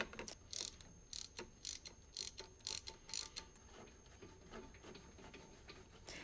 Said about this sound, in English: Then use a 21mm spark plug socket to remove the spark plug.